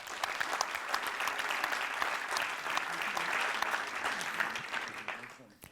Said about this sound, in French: Mehdi Guézoui, on peut l'applaudir.